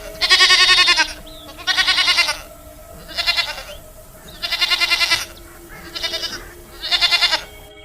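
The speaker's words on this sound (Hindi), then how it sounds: "सोना चुड़ैल के पास बहुत सारी बकरियां थीं।" A herd of goats bleats loudly and close by, six long, wavering cries in a steady rhythm with short pauses between them.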